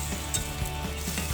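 Green beans stir-fried in a pan with coconut milk and anchovies sizzle continuously while being stirred, with occasional soft clinks of the utensil against the pan, close and alone.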